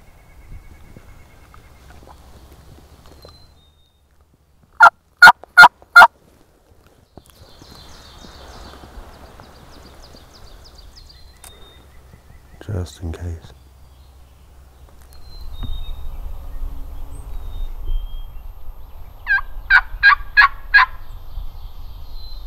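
A wild turkey gobbles in short rapid bursts at a distance, repeated a few times amid outdoor rustling and low wind rumble.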